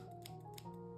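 Scissors snip through styrofoam on a wire in a couple of quick, faint crunching cuts over a second of quiet indoor background.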